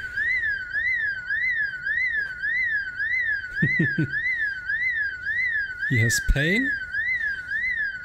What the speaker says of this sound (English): There's a house alarm.